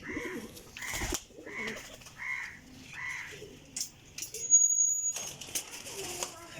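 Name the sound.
pigeons cooing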